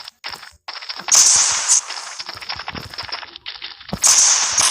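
Rapid video game gunfire crackles in dense bursts, with sharp high-pitched impacts and snaps layered over the shooting.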